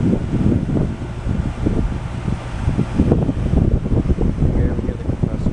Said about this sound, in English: I'll show you in the next clip here how quiet the unit really is